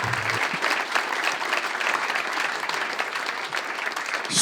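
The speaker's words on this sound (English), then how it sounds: "Give him a big round of applause." A live podcast audience applauds as guest Mike Wagner is welcomed to the stage, continuous dense clapping filling the room for several seconds.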